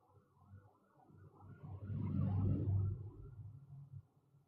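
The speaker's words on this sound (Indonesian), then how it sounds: "Ada ambulan nih, ada suara ambulan." Ambulance siren passing outside a room, a low droning wail that swells to a peak in the middle and then fades away, heard at a distance.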